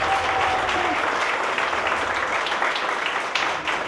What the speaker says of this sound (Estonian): Teeme talle suur aplausi.